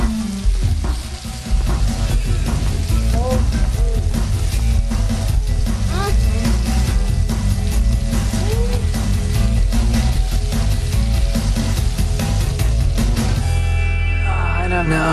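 Burgers sizzle and crackle loudly in a hot pan without pause, with busy clinking and scraping on top and voices partly buried underneath.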